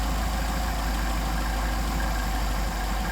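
An engine fitted with twin Solex carburetors idles steadily while the carburetors are tuned, a dense, constant mechanical drone with a low rumble and faint vibration, close and loud throughout.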